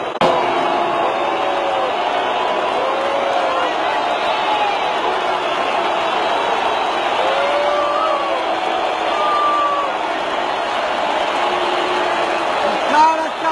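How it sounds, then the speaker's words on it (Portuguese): A huge stadium crowd of tens of thousands in São Paulo boos a rock musician at his concert: a sustained, dense roar of voices with scattered shouts and whistles, loud and continuous throughout. "Todo mundo vaiando."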